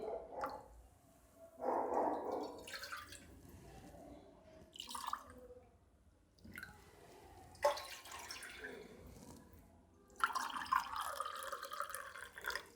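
Water, about two and a half cups, goes into a frying pan for Maggi noodles in a home kitchen, heard as several separate close pours and splashes with quiet pauses between them.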